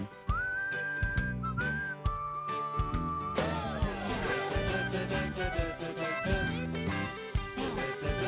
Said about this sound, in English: Try to whistle along if you can.